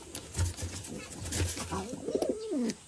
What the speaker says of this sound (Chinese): 鸽子又进来了